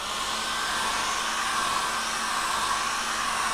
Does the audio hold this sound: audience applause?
no